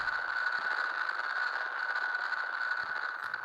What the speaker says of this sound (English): That static sound is getting louder.